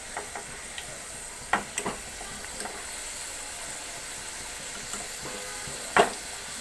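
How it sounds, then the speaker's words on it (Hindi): Potatoes deep-frying in hot oil for French fries give a steady, faint crackling sizzle with occasional louder pops and clinks, no voices. "इसी तरह सारे आलू को फ्राई करके निकाल लेते हैं।"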